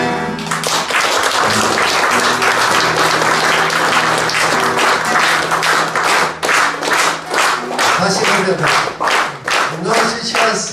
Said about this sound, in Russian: Но сейчас эти аплодисменты подождем на последнюю песню